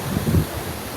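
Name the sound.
storm waves and wind of typhoon Tino at Pasil fishport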